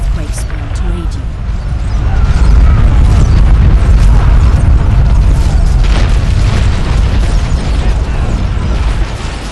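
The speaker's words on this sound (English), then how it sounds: "so I will use an earthquake spell to aid you" An earthquake spell in the fantasy strategy game BattleForge, a loud, sustained deep rumble with crumbling, cracking bursts rolling on for several seconds.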